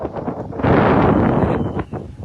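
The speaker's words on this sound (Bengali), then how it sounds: "আজকে হাওড়ে চলতেছে প্রচন্ড বাতাস" Strong wind over Tanguar Haor wetland in Bangladesh buffets the microphone in heavy, roaring gusts, swelling loudly midway and then easing slightly, with no voices.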